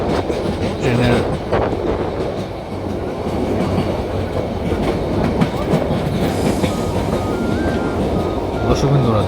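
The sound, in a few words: train running at speed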